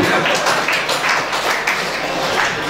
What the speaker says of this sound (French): Applaudissez beaucoup.